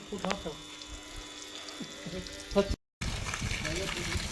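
Water gushes steadily from a new one-and-a-half horsepower borewell motor pump on a Punjab farm, a broad continuous rush that briefly cuts out and resumes, with voices talking over it.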